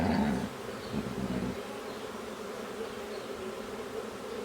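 A honey bee swarm hums in a dense, continuous buzz, close and steady, with a brief louder rustle at the start and no voices.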